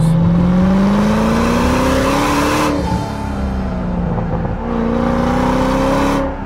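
A 2010 Ford Shelby GT500's four-inch exhaust howls loudly and steadily as the engine revs, its pitch climbing, dipping briefly, then climbing again, close and continuous.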